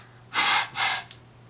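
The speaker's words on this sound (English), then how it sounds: "I'm having a lot of trouble breathing lately." Two heavy, breathy gasps from a person who has trouble breathing, close and loud, followed by a short faint sniff.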